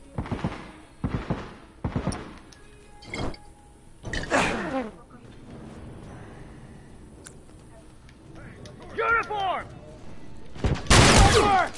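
Gunshots in The Last of Us multiplayer ring out as sharp separate cracks, a few spaced early shots and later bursts, with a player talking in between.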